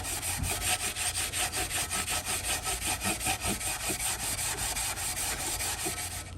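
Steel wool rubs back and forth on the metal of a vintage Craftsman sander during restoration, giving a steady, rhythmic scratchy stroke about three times a second, close and alone.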